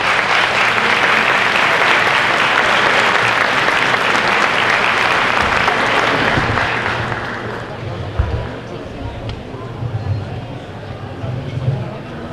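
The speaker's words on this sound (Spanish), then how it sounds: "a quien recibimos en el escenario con un fuerte aplauso" Loud, dense audience applause at a technical colleges congress, sustained for about seven seconds and then tapering off, with a speaker's voice emerging as the clapping dies away.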